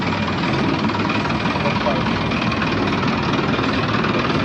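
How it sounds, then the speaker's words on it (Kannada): A long-tail boat engine drones loud and steady throughout, a dense, unbroken mechanical roar heard on board during an island tour around Phi Phi off Phuket, Thailand. "ಈಗ ಲಾಂಗ್ ಟೈಲ್ ಬೋಟ್ನಲ್ಲಿ ಬಂದಿದ್ದೀವಿ."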